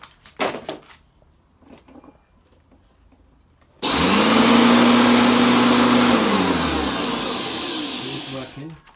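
A Flymo Easimo electric lawn mower with a newly replaced drive belt starts abruptly after a few quiet seconds. It runs loud and steady with a strong whine, then slowly winds down at the end.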